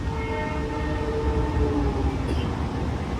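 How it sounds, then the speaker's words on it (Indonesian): A Ranggajati business-class train running from Jember to Cirebon passes close by, a steady loud rumble of wheels and rail noise with sustained tonal hum throughout and a brief higher squeal near the end. "Ini papasan sama kereta api Ranggajati dari Jember dengan tujuan akhir stasiun Cirebon"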